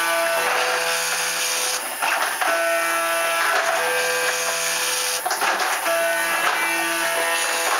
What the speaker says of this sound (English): So this is not only homing the machine, but it's also squaring the gantry.